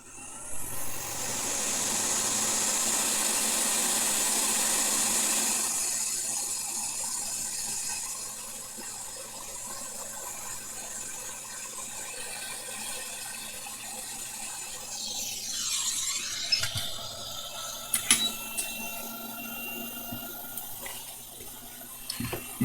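Hot air rework station blowing on a Nintendo Switch circuit board, a steady broadband airflow hiss, loud for the first six seconds, then a quieter ongoing rush with a few brief clicks and knocks.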